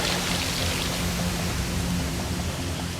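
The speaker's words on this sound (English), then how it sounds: "Now he's going to tackle the icy water wall." Icy water pours down a water wall obstacle on a Wipeout Australia inflatable course, a steady, loud broadband rush with no breaks, like a heavy cascade heard up close.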